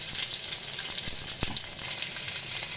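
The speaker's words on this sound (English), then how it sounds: "we'll take a wok, just about 1 tablespoon oil, and what we're going to do is saute onions" Onions sauteing in about a tablespoon of oil in a wok give a steady, close hiss and crackle, with one brief stir knock and no talk.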